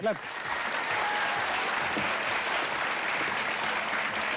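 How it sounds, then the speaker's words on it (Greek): On a 1995 Greek television comedy show, a studio audience breaks into steady, even applause for a contestant picked from the crowd, after a brief voice at the very start. "Ελάτε, χειροκροτήστε τον κύριο, ελάτε."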